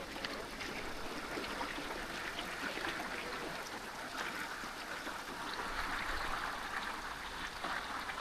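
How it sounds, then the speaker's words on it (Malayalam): Water rushes and flows steadily at a forested exotic bird park, a faint continuous broadband wash heard from a distance with no talk. "വെള്ളം പോണത്"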